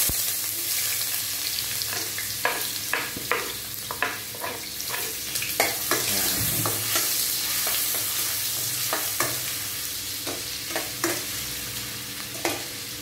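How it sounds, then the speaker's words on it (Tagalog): Ginger frying in a pan sizzles steadily and loudly under repeated scraping spatula strokes that come in an irregular rhythm, with no one speaking. "Ilagay na natin ang luya."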